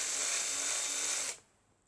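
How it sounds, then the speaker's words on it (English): A small power drill with a 256 bit bores into the plastic posts of a model car body, a steady high-pitched whine that cuts off abruptly near the end, leaving near silence. "we're just drilling the posts with the 256"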